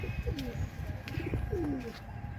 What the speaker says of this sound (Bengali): আজকে রুইতপুর কবুতর হাটে জাম হইতাছে